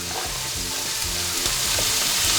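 Butter and olive oil sizzling in a pan after prawns were cooked, a steady close hiss with faint rhythmic bubbling, no voices.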